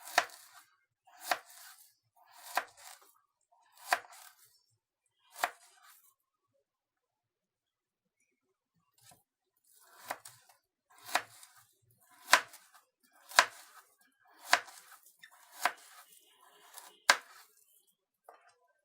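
A knife chops turnips into pieces on a board for homemade peasant-style pickles with red beetroot. There are five crisp cuts, a pause, then eight more sharp, evenly spaced cuts, all close and fairly quiet.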